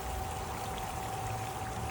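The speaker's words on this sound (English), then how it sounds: "There were a lot of water fountains," Garden water fountain splashing steadily, a continuous pouring and trickling wash that stays even and close throughout with no voices.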